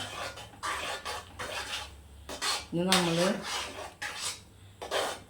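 Jackfruit and jaggery being stirred in a pan, with repeated scraping and rubbing strokes of a spoon against the pan, steady and close, while a voice speaks briefly in between.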